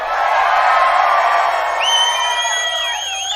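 A large crowd cheers and whoops loudly and steadily at a Hollywood Walk of Fame star ceremony for Robert Englund, with a few high whistles rising over the roar near the end.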